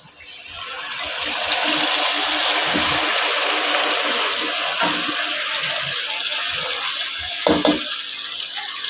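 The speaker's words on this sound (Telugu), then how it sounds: "ఇప్పుడు దీంట్లో ఎసర పోసుకుందాం నీళ్ళు కొద్దిగా" Water pours steadily into a pot of mutton curry with a continuous splashing hiss, fairly close, with a few soft clinks near the end.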